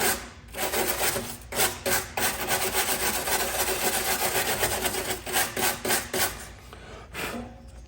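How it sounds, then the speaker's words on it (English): A stainless steel wire brush scrubs the battery parts of a Craftsman YT3000 riding mower in a steady, loud, close rasp with short rhythmic strokes toward the end. "gonna grab a wire brush and probably a flat file."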